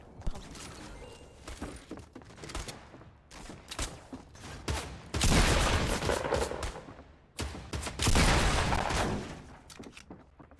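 Gunfire in Fortnite's Tilted Towers, scattered single shots and rattling bursts at varying distances, with two loud, dense barrages in the middle and sporadic cracks between them.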